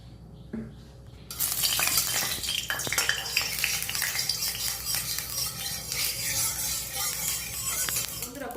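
Hot mustard oil in a kadai wok for a koi fish recipe bursts into a loud, continuous sizzle after a quiet moment, crackling steadily with occasional light utensil clinks.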